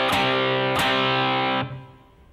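Distorted electric guitar plays a rhythmic phrase: two sharp accented chord stabs, then a sustained ringing chord that cuts off and fades, loud and close with no voice.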